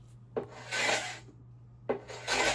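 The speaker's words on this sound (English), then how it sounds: "grabbed my carbide scraper and started scraping off this old flaky finish" A carbide scraper rasps old flaky finish off a wooden table in two long strokes, each starting with a sharp bite and then a broad, loud scraping sweep, with a quiet pause between them and no talking.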